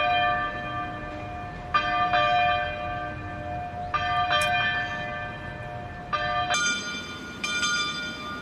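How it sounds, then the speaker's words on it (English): A church bell ringing clearly and loudly, several separate ringing strikes with long resonant hums that overlap and decay between hits, no talking. "I literally can see the bell from here."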